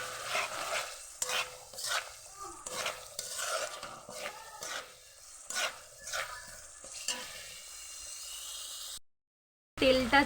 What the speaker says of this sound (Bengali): দিয়ে ভালো করে এটা নেড়ে নেব